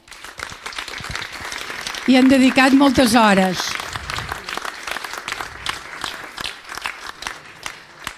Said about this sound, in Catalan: Us demano un aplaudiment per ells